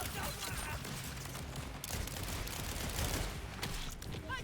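Dense, continuous gunfire from Jakobs pistols in the shooter game Borderlands 4, with rapid overlapping shots and bursts mixed with game effects running loudly throughout.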